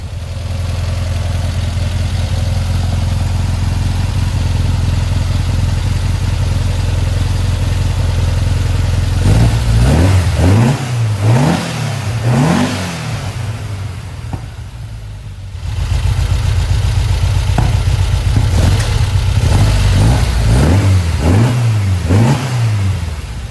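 A 1952 Volkswagen Split bus air-cooled engine, upgraded from 1641cc to 1904cc, idles loudly and close, then bursts into repeated sharp revs, settles briefly and revs hard again several times.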